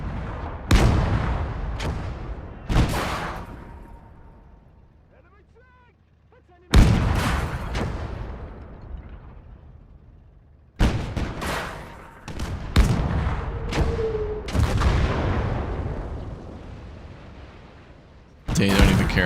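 Heavy impacts from WW2 strategy game artillery strike a tank, several sharp loud booms spaced irregularly with decaying rumbles between them and a faint voice in the gaps.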